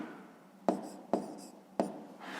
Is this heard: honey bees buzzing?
no